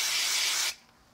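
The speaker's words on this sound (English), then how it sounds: "So I'm going to use a little bit of spray glue just to make it nice and quick." Spray glue hisses from an aerosol can onto card in one close, steady burst lasting under a second, then cuts off abruptly into near silence.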